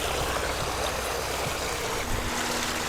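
Water tumbles steadily through a pondless waterfall feature in a garden display at Kelways Plants near Langport, a continuous close splashing rush with no voices.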